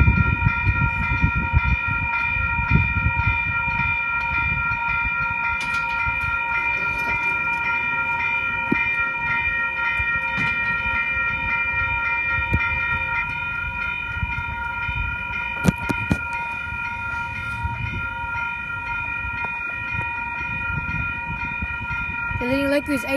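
Freight cement train led by a diesel locomotive passing a station platform in New South Wales, a steady loud rumble of wagons with clanking and a sustained high tonal squeal from the wheels, continuous and close for the whole stretch.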